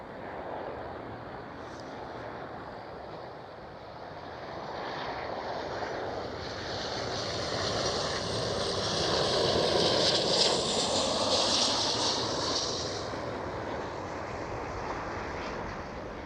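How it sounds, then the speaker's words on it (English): Transavia Boeing 737 airliner at Schiphol, a loud rushing jet roar building gradually to a peak and easing off, with a high engine whine on top, heard on its own without talk. "Next one up, Transavia 737."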